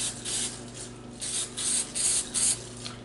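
A spray paint can with a clogged tip hisses in several short bursts, spitting drops while painting the wooden body of an RC hearse up close, with no talking.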